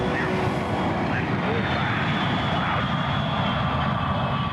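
A T-38 jet's engine roars in a steady, loud, continuous rush that fills the whole stretch, with a voice speaking over it.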